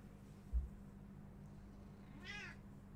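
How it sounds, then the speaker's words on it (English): A cat gives a single clear meow near the end, rising and falling in pitch, after a soft low thump, over a quiet room hum. "Meow. Yeah, the cat even says it too."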